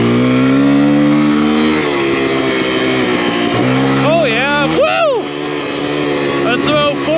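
A Kawasaki KLX140RF dirt bike revs hard through first gear, its engine whine climbing in pitch with sharp rev spikes near the end, loud and close throughout.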